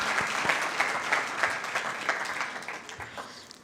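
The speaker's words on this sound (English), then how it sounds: "just a round of applause for all the judges who helped us through all of them" An audience at a debate finals applauds the judges with a full burst of clapping that gradually thins and fades toward the end.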